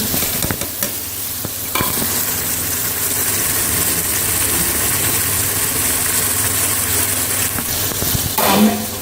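Garlic and ginger paste frying in a pan for a Punjabi tinda gosht curry, a steady loud sizzle throughout with occasional stirring scrapes and clinks, close up and without talk.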